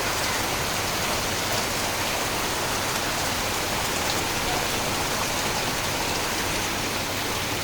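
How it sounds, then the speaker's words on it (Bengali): Heavy rain pours steadily, with rainwater streaming off a tin roof in a line; a loud, dense, unbroken wash of falling water with no voices. "বৃষ্টির পানিতে তিন বেয়ে এক লাইনে কত সুন্দর পানি পড়তেছে"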